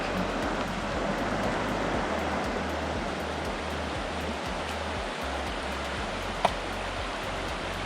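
Sucker Creek in Oregon flows steadily as a continuous, close rush of creek water, with low rumbling bumps underneath and one brief sharp tick near the end.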